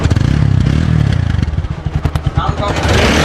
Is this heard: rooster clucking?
no